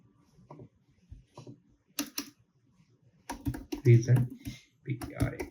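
Keystrokes on a computer keyboard while JavaScript code is entered come in short clattering bursts, some dense runs of taps, interleaved with someone speaking.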